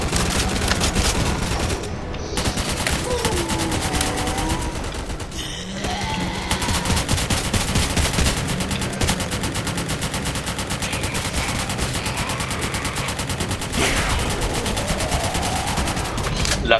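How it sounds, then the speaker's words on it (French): Automatic machine gun fire from a PKP Pecheneg (PK PP) in the Roblox game Zombie Uprising, with dense, sustained bursts of rapid shots nearly nonstop, briefly pausing a few times, loud and close with game sound beneath. "ça c'est une mitraillette qu'on avait sur le V3 d'ailleurs"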